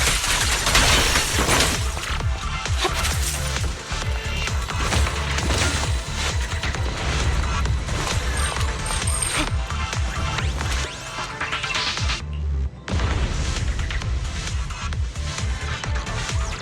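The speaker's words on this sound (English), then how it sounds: "There's a risk of explosions nearby." Loud, dense explosions and crashes in Zenless Zone Zero roll on almost continuously with heavy booming impacts, then a brief drop before the blasts resume.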